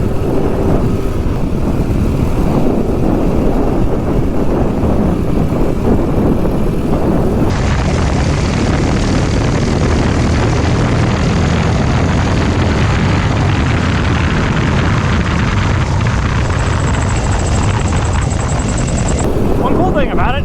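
Kohler CH270 mini bike engine running, a loud, rough continuous roar with a steady mechanical rumble, shifting in character partway through as if the bike moves or the throttle changes.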